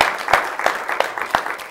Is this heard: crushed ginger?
no